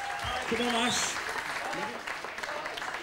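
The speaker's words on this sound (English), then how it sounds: "So can you give Ashley a round of applause, one of our barmen, please?" Audience applause for Ashley, one of the barmen, at a holiday resort bar show, a steady wash of clapping from a crowd with a voice calling out over it and a whistle-like tone near the start.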